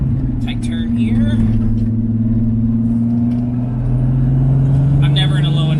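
A 1988 Pontiac Fiero VR6 turbo widebody with a six-speed takes a tight turn, its engine droning steadily and loudly at low revs under a voice talking throughout.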